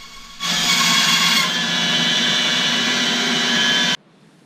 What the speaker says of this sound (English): Careful on the bandsaw to stay outside the lines.